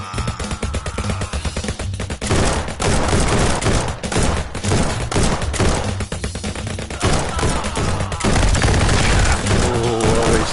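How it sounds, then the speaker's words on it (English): Dense, loud gunfire from the PlayStation shooter Guns'n'Stories: Bulletproof, with rapid automatic bursts and booming shots layered over game music, running almost unbroken for ten seconds. "Oh, he started firing there."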